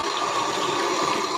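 Running water from a kitchen tap rinsing food, a steady close rushing that fills the whole short stretch without pause.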